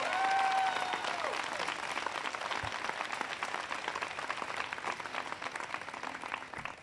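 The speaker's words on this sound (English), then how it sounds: "Can everybody please give Alex a big round of applause for that great introduction?" A crowd applauds after an introduction at an outdoor economic speech event in Denver, Colorado, with steady dense clapping heard at a distance, gradually thinning toward the end.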